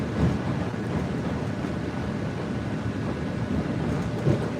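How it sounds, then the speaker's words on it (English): A Chicago Green Line elevated train rumbles steadily along its tracks through a switching yard, a continuous close, loud roar of wheels and car noise with no voices. "So right now we're going through kind of the train switching yard."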